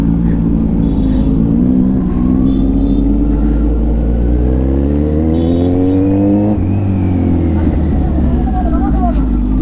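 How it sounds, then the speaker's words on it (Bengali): Four superbikes, a Kawasaki 10R, 6R, a 1000 and a 900, ride together in a loud, continuous engine roar, the rising and falling rev tones stacking as the group accelerates close by. "চারটা সুপার বাইক একসাথে যাচ্ছি, আলাদাই আওয়াজ ভাই"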